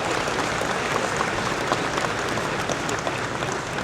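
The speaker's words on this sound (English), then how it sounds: "So please give that car a big round of applause." A crowd at a large collector car auction event in Scottsdale, Arizona applauds a custom hot rod, a loud, continuous roar of clapping that holds evenly throughout.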